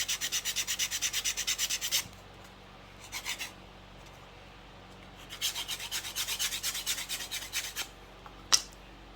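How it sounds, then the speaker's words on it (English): Rhythmic hand sanding of a wooden groove with 80 grit sandpaper wrapped on a paint stick, quick back-and-forth rasping strokes in bursts separated by pauses, close and fairly quiet. "So you can just take and sand that groove just a little bit."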